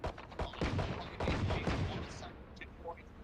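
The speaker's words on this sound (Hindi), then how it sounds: "मैं कुछ गलत गोली चला रहा हूँ क्या?" Rapid bursts of gunfire from the video game Valorant, a clattering volley of shots with a player's voice mixed in, fairly loud.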